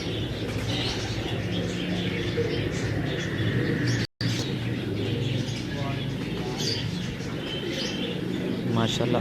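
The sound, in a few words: pigeons cooing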